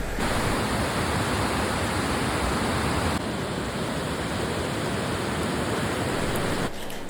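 Continuous roaring rush of waterfalls at Mankulam, loud and unbroken throughout, with no voices.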